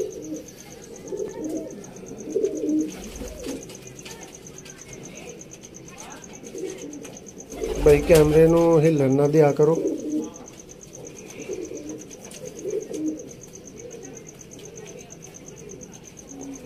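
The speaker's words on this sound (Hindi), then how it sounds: "माशाल्लाह जी सलेटी कबूतर है ये दोस्तों" A grey pigeon coos in a low warbling burst near the middle, with faint bird chirps around it and someone speaking briefly.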